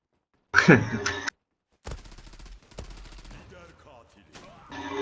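Gunfire in the shooter game Zula, with a short loud burst of close shots followed after a pause by quieter, rapid shots and game noise. Someone talks briefly over it.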